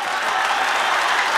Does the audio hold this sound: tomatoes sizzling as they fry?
no